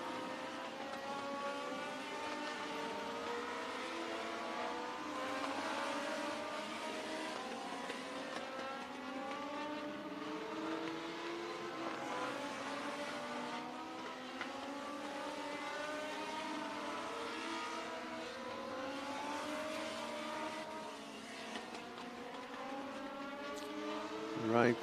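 Outlaw figure-8 race cars roar around a dirt-style track during practice and qualifying, with several engines layered in a continuous, wavering drone as they rise and fall in pitch, heard from a distance without pause.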